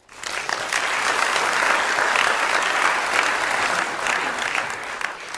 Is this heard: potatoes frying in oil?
no